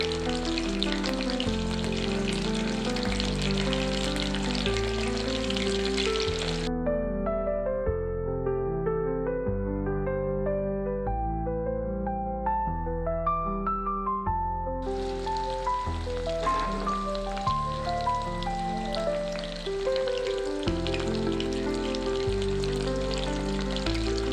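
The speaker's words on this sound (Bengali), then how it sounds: "যোগ করার পর লো ফ্লেমে একে ভাজতে থাকবো পাঁচ মিনিট পর্যন্ত" Marinated chicken pieces frying over a low flame, a continuous crackling sizzle under loud background music, the sizzle dropping away midway and then returning.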